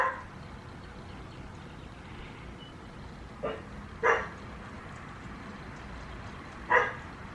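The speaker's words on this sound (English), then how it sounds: "my dogs are barking" Dogs bark a few times from a distance, three short separate yelps spread over a quiet indoor background with no talk.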